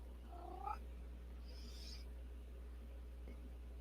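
Pet cat indoors giving a single short, faint meow near the start, followed by quiet with only soft room noise.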